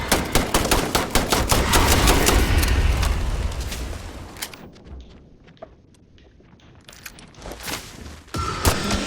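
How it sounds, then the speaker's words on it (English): Rapid gunfire in the Starfield video game during a Terrormorph attack on New Atlantis, loud dense bursts of shots and booms that thin out mid-clip, then sharp single shots return near the end. "Oh wait, I'm shooting too high."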